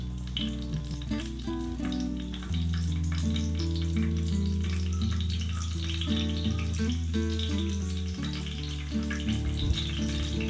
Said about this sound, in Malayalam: മൺചട്ടി നന്നായി ചൂടായിട്ടുണ്ട്. നമുക്കിതിലേക്ക് വെളിച്ചെണ്ണ ഒഴിക്കാം.